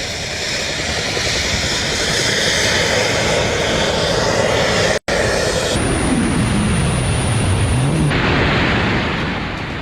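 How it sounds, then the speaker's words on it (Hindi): A jet suit in flight, its jet engines giving a loud, continuous roar that fills the whole clip, with a brief cut midway and a shifting, sweeping tone afterward. "इस भाई ने ये सूट पहना है और ये उड़ रहा है, बाकायदा उड़ रहा है।"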